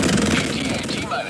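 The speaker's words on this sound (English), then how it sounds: "right click is machine gun" Rapid automatic machine-gun fire from a video game rattles on continuously and loudly for its whole length, with a dense, unbroken burst of shots.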